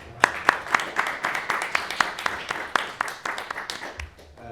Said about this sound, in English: Can we just have a round of applause for her, inshallah?